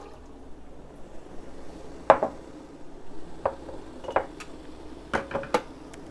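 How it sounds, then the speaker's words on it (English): Water is poured out of preheated glass canning jars taken from a canner, giving brief splashes and a few clinks of glass against a quiet kitchen background. "so I'm just gonna pour this water out real quick."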